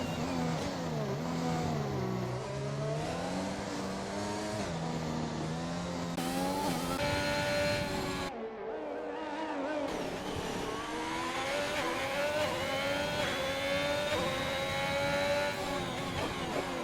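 Formula 1 race cars accelerating in a racing game on the Baku street circuit in Azerbaijan, a continuous high-pitched engine whine rising and falling through gear changes, with a brief drop around the middle before the revs climb again.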